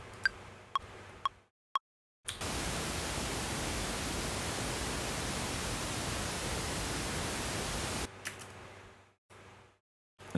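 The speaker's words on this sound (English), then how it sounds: "So now we have a sample of pink noise." Pink noise test signal used for mix calibration, a steady broadband hiss lasting about six seconds, preceded by a few short clicks and beeps, then cut off abruptly into near silence.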